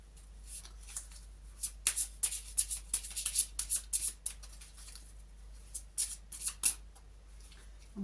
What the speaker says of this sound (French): Alors, on continue de mélanger.